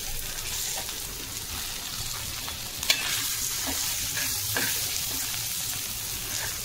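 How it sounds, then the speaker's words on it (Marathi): Cut potatoes tossed into a hot pan sizzle steadily with stirring scrapes, a constant frying hiss and a single sharp clack midway. "आता ह्याच्यात कट केलेले बटाटे टाकून घ्यायचं"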